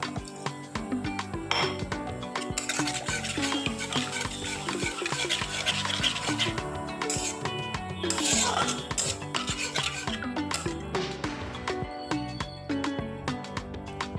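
Masala with chopped chilli and coriander powder frying over low heat for a mini brinjal dish, busy metallic scraping and clinking of a spoon on the pan over a dense, continuous sizzle.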